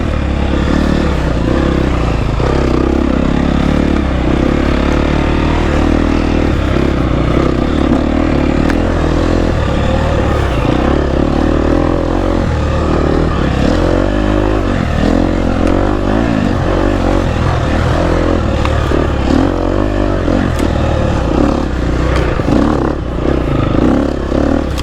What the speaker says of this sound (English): This bike does these tight turns.